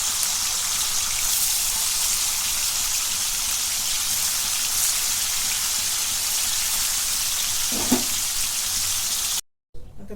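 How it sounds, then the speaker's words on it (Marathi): Steady hissing sizzle of paneer frying in hot oil in a kadhai, continuous and close, with a brief clink near the end before it cuts off. "सुरुवातीला आधी पनीर तळून घेते"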